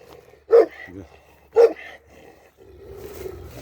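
A one-and-a-half-year-old village shepherd dog raised around cattle gives two loud, deep barks about a second apart, followed by a lower, rumbling vocal sound.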